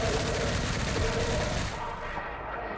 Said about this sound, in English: Alright, who's shooting at me?